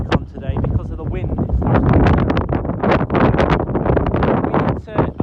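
Strong wind buffeting an outdoor microphone in an open farm field, a loud continuous low roar with gusty swells and rustling that fills the whole stretch.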